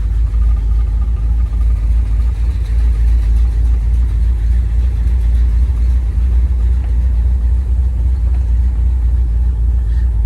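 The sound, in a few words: 1986 Monte Carlo SS 350 V8 engine driving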